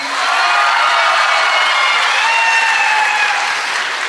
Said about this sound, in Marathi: एकदा जोरदार टाळ्या होत्या प्रीती कांगणेसाठी